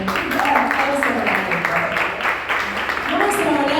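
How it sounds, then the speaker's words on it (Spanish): A church audience applauds a male Bible teacher in a dense, steady wash of clapping that runs the whole time, with voices mixed in under it. "Un aplauso para Adrián."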